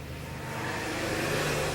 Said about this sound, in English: There goes another vehicle.